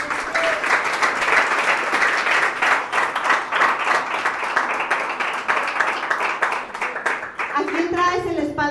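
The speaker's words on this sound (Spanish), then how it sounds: "Dale un aplauso al Señor." Congregation applauding at a church service, a steady, dense wash of many hands clapping with scattered voices, carrying on for several seconds before it thins out as a speaker resumes talking.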